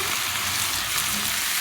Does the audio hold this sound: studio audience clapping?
no